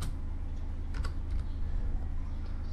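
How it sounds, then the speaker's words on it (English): Keys clatter in quick irregular taps as a command is typed on a computer keyboard at a Windows command prompt, close and steady over a low background hum. "now just type again attrib space"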